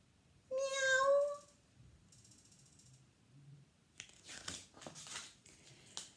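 A cat in a children's paper-shapes story meows once, a clear rising-falling call near the start, followed by faint rustling and some soft clicking noises, with no talk.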